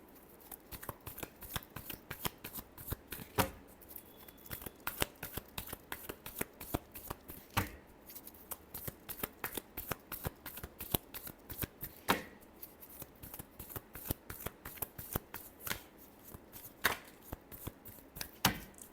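Tarot cards being shuffled at close range, a long run of quick riffling snaps and soft slaps in an uneven rhythm, fairly quiet, with no talk.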